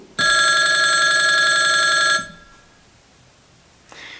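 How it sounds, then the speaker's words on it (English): A loud, continuous electronic telephone ring lasting about two seconds, then quiet with a faint soft noise near the end. "the sound effect that I used was that of a telephone"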